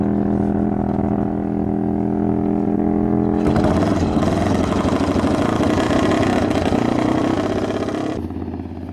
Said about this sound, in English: Sounds like a misfire.